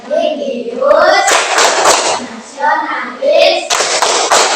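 A class of schoolchildren claps hands in a rhythmic pattern while chanting together in unison in Indonesian, loud and close.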